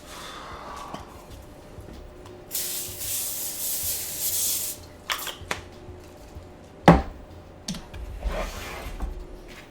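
Cooking spray sprayed onto a baking pan, a steady hissing burst lasting about two seconds, close, then another faint spray and scattered clicks and handling noises.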